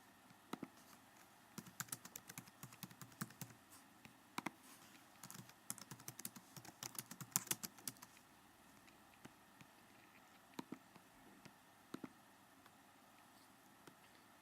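Typing on a computer keyboard, quiet close keystrokes in irregular bursts, dense at first and then thinning to scattered single taps.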